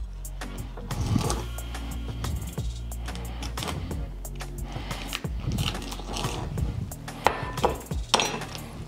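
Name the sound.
knife cutting main vein out of collard greens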